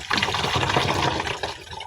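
Coconut water pours and splashes in a short, steady gush, close and fairly loud, with no voices.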